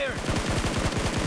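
A fast, steady burst of automatic gunfire in PUBG Mobile, the shots evenly spaced and close, continuing through the whole moment.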